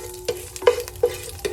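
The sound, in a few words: whole spices frying in coconut oil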